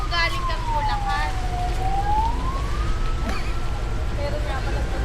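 A wailing fire truck siren sweeps down and back up in pitch over steady traffic rumble, with voices talking faintly alongside.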